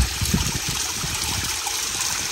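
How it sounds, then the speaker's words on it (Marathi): A waterfall pours during heavy monsoon rain, making a steady, dense rushing roar that stays constant throughout without pauses. "हा झरना आहे माझ्या पाठी"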